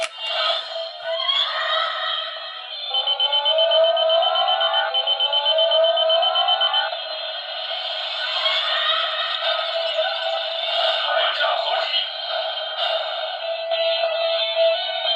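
Electronic sound effects from a Flame Dragon Summoner toy, 2024 re-release: a loud, continuous stream of synthetic tones, sweeps and warbling alarm-like effects played through the toy speaker, close and unbroken for the whole stretch, with no talking.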